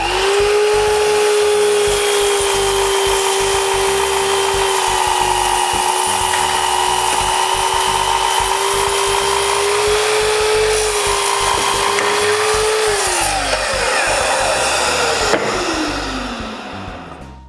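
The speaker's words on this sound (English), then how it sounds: "clamp them, and cut them to make them all the same length in one shot" A power saw cuts through a stack of clamped wooden shelf supports in one pass, a steady loud whine that holds for about thirteen seconds, then drops in pitch and fades as the blade spins down.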